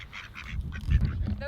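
Ducks gather and quack in short nasal bursts at a campsite, a few calls repeating close by over outdoor background noise, with no voices over them.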